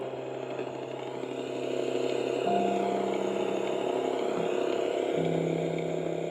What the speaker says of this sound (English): It sounds like an engine running.